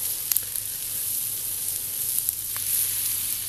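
Bologna fries in a small pan set on wood fire embers, giving a steady, close hiss of sizzling with a few light pops and no voices.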